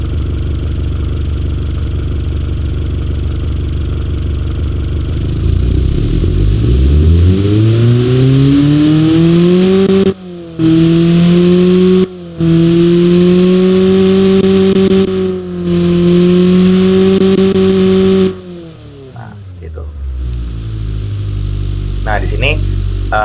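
An engine strapped to a dynamometer test bench revs up from a low drone to a loud, steady high-rpm howl, cuts out briefly a couple of times, then drops back to a lower idle.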